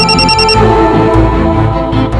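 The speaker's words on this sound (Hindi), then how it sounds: "तभी संतोषी का फोन आया हमको।" A telephone rings with a repeated electronic ringtone, loud and close, in short pulses at the start, then gives way to a steady tonal backdrop.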